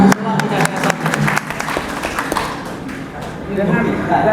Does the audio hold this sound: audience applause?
yes